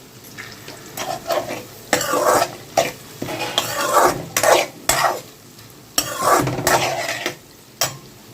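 Turmeric and salt being stirred into a frying pan, with bursts of crackling sizzle and scraping as a utensil works the pan, close and loud in an irregular rhythm, no talking.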